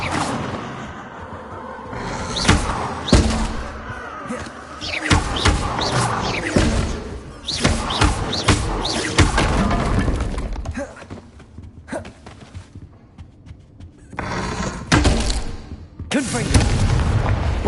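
Repeated Bombarda blasting-spell explosions from a Harry Potter video game, loud booming bursts with crackling debris, fired in quick succession alongside other spell blasts, with a player's voice calling spell names between them.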